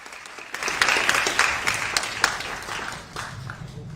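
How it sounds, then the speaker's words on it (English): A debate audience for a Pennsylvania congressional race breaks into a burst of clapping that swells quickly and then tapers off, with some crowd noise beneath it. "but there will be clapping. I can guarantee you that."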